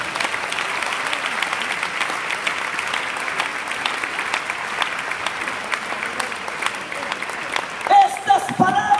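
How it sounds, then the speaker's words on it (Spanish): Sustained applause from a church congregation at a convention service, steady clapping throughout with a voice starting near the end. "Denle un aplauso al Señor."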